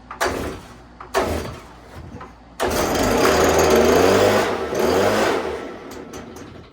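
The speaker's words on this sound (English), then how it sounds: "little problem with my blower here" A Stihl leaf blower with a carburetor problem is pulled twice, giving short rasping bursts, then catches and runs loud at a steady high-revving drone for several seconds before its note drops and fades.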